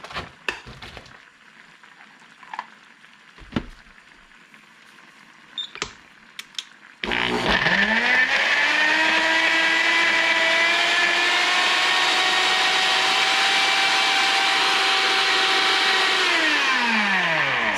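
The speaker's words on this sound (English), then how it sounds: "Turn on the blender." After a few scattered clicks and bumps, a blender starts up and runs loud and steady, whirring and grinding through frozen fruit with blueberries for a smoothie, its pitch rising as the motor spins up.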